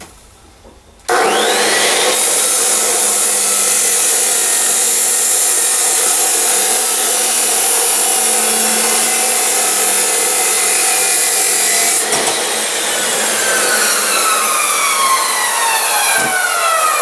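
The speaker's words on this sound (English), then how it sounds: "so we've got the steel clamped into our chop saw here" A chop saw cuts through a 3-inch wide piece of 3/16 steel clamped in place, starting abruptly into a loud, continuous abrasive whine and grind that holds steady for about fifteen seconds, close up.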